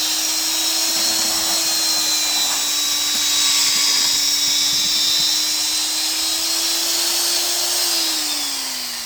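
A power drill fitted with an auger attachment mixes potting soil in a container, giving a loud, continuous whining hum with a steady pitch that dips slightly near the end, with no voices.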